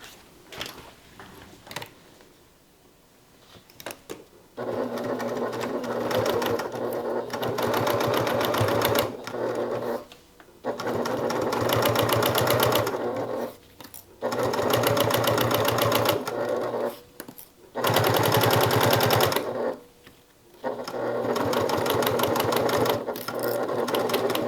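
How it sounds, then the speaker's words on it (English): A sewing machine stitches fabric along a half-inch seam in several loud, steady bursts of rapid mechanical whirring, separated by short pauses. "And now we are going to stitch using a 1/2 inch seam allowance here."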